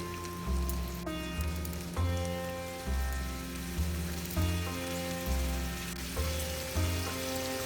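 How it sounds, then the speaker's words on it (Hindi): Flour-dusted shrimp frying in hot oil for a PF Chang's-style dynamite shrimp appetizer, a dense steady sizzle and crackle with rhythmic low thumps recurring about once a second underneath, no voices. "सेम प्रोसेस में सेकेंड बैच भी मैं फ्राई कर लेती हूँ।"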